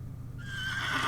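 Horse neighing in the video game The Excavation of Hob's Barrow, a single rising whinny that starts after a brief low rumble and climbs into a loud, shrill, sustained call, heard alone.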